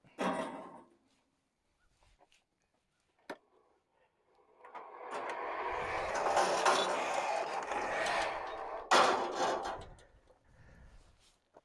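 Oak being cut with a saw as the blade strains and breaks, a long loud rasping grind building after scattered knocks and brief quiet, ending in a sharp crack and a fading scrape.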